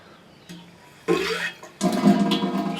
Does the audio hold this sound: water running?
yes